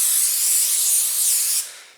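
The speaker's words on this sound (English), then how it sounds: "I'm going to spray my marble board here with canola spray" Canola oil cooking spray hissing steadily from an aerosol can onto a marble board for bread kneading, a close, bright continuous spray lasting about a second and a half before tapering off.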